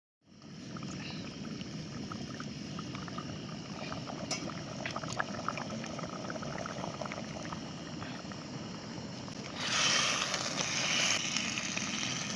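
Vajri dal cooks in a clay pot, giving off a steady close bubbling and hissing simmer that holds throughout, with a few faint clinks and a slight surge in the hiss near the end.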